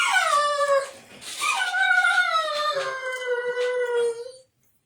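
A dog howls and whimpers loudly and close by, long wavering cries that slide up and down, then stop abruptly.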